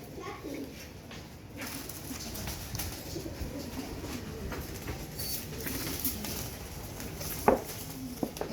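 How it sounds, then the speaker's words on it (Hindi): Pigeons coo softly and intermittently in a loft, low murmuring calls set against a steady background hum with a few brief clicks and knocks. "ये नीम बट्टी करके कबूतर है,"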